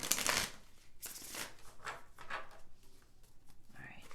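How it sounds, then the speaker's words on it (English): A deck of tarot cards being shuffled by hand, several soft papery riffles and slides in short bursts, close and fairly quiet, with talking in between. "I feel the need to shuffle just a little"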